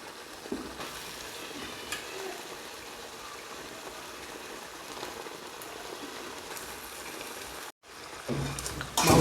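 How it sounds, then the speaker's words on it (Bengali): Chicken is poured into a hot pot of potatoes for a chicken curry, setting off a steady sizzle and crackle of frying with a brief pause near the end before the sizzling surges louder. "আর এর মধ্যে আমরা এখন ঢেলে দেবো আমাদের মেন জিনিস চিকেন।"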